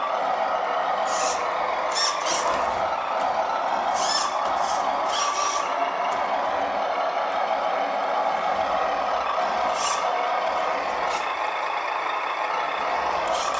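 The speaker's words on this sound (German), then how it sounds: "Das Fahrzeug startet automatisch im Leerlauf. Er beschleunigt wirklich hoch." The truck sound module of a 1/10 scale HG P408 RC Hummer runs at idle and then revs high, producing a loud, steady engine drone with repeated hissing bursts like air brakes over the running sound.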